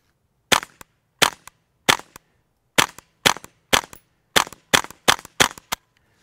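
Suppressed .22 rimfire rifle shots through a full titanium modular silencer: ten sharp, clean cracks in an uneven series, each followed by a brief mechanical click of the action, close and loud with no talking.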